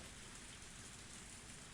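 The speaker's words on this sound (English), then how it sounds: "Only the sound of the rain filled this tense moment." Steady, dense rain falls as a visual novel sound effect in Higurashi, a continuous hiss of drops spread evenly across the whole stretch, close and unbroken, with no voices over it.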